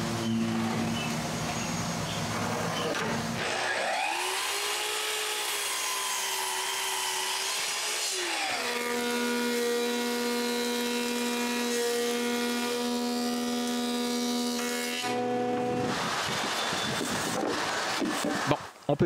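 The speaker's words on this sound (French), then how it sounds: "on peut continuer le sablage maintenant" A power sander works over wooden patio deck boards, giving a droning whine that shifts pitch as it is pressed and lifted, with heavier grinding passes at the start and near the end.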